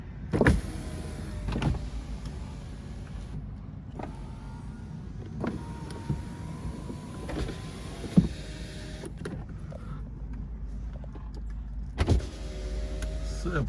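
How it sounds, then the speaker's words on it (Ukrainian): Power windows on a 2019 Volkswagen Passat B8 2.0 being tested, several separate electric motor whirs starting and stopping in turn, each run ending in a soft thump, close and fairly quiet in an otherwise still car. "Перевірю склопіднімачі."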